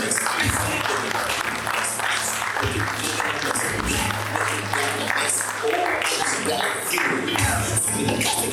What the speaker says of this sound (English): I want y'all to give a round of applause for my brother, my big brother, my mentor, Mr. Leroy Jones.